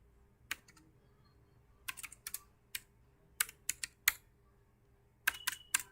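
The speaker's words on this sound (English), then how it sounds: "I was just typing." Keys tapped on a computer keyboard in a quiet room, arriving in short scattered bursts of sharp clicks with pauses between them, fairly close and alone with no talking.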